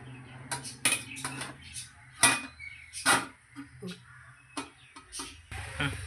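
Oiled idli steamer plates take rolled kothimbir vadi logs, with scattered clinks and taps of metal plates and utensils in a home kitchen, spaced irregularly and fairly close.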